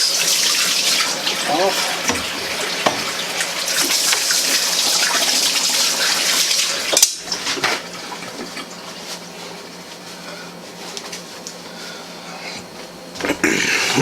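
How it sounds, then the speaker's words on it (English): Kitchen tap running while hands are washed clean of grease, a hissing gush of water under a voice that stops abruptly midway, leaving quieter background sounds and a few clunks. "let me wash my hands real quick"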